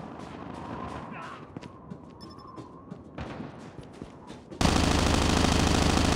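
Gunfire in the mobile shooter COD Mobile, including Uzi fire, scattered sharp shots under a steady game backdrop, ending in a loud continuous burst of noise.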